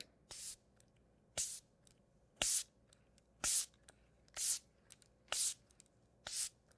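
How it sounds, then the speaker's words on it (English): Seven short, crisp hissing bursts of makeup setting spray come at a steady pace about a second apart, each a quick fine mist with quiet pauses between. "I'm gonna tilt up and do a long spray"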